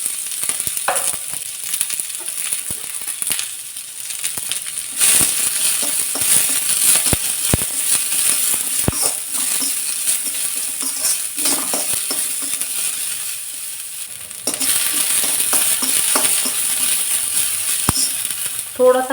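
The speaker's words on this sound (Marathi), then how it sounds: "थोडासा कांदा असा भाजत आला" Chopped onion frying in oil in a kadai: a low continuous sizzle with scattered clicks and scrapes of stirring, steady throughout with a brief dip in the middle, no one talking.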